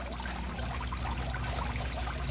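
Old water being poured out of a container during a homemade pond build, a short continuous splashing gush that stays steady and fairly loud for a couple of seconds.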